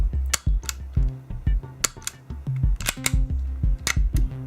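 Bersa BP9CC airsoft pistol replica by ASG, dry firing with its trigger and hammer: a string of sharp, close mechanical clicks and snaps in irregular rhythm, fairly loud, with no voices.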